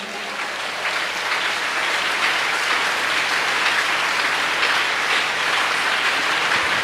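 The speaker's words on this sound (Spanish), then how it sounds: "Dele un aplauso a la gloria de Dios." A church congregation claps together in steady, dense applause that fills the whole stretch evenly and loudly, with no voices standing out above it.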